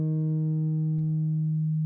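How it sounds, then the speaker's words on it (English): Casio CZ-101 synthesizer playing a sawtooth wave with no resonance: one steady, buzzy sustained note held unchanged throughout, rich in even harmonics and heard alone. "The sawtooth without resonance sounds like this."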